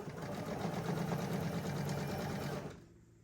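Sewing machine running steadily as it stitches binding with the fabric under the presser foot, a close, continuous whirring hum for about two and a half seconds before it stops.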